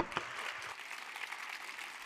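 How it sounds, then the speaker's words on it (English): Warm applause from a conference audience at ChangeNOW 2023 rings out as a brief, steady wash of clapping, moderately loud and without speech. "Give them a warm round of applause."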